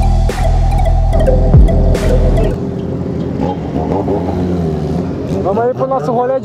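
A Yamaha MT-09 motorcycle engine idling loud and close, then revving up and down in rising and falling sweeps. Voices can be heard over the engine.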